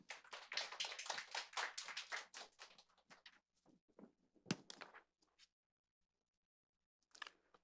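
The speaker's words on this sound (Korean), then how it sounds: "역시 큰 박수로 환영해 주시기 바랍니다" Applause from the audience at a UNESCO Korea learning-city network meeting, welcoming the secretary-general to speak; a burst of clapping that thins out, with a few scattered claps at the end.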